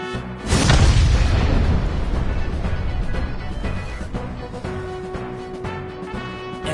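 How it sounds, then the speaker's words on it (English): Explosion in the video game Persona 3 Reload as a burning fuse inside a body reaches the explosives: a sudden loud boom with a heavy low blast that slowly decays into a lingering rumble and ringing tones. "the burning fuse inside the body reaches the explosives"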